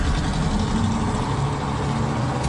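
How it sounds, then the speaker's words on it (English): A car engine idles nearby near a lakeside lovers' lane where a boat offers a hiding place, a steady low rumble running unbroken and fairly loud throughout with no voices. "I could still hear the car."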